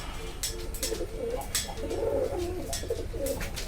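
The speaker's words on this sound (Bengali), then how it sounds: "পায়রাগুলো" Pigeons coo repeatedly in low, throaty murmurs over a steady background hum, with a few sharp clicks and rustles from the birds nearby.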